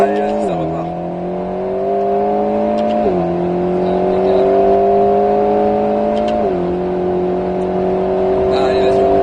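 An Alpine A110 S engine revs up through the gears on the Circuit du Grand Sambuc, pitch climbing then dropping at each shift, three upshifts in a row, close and loud.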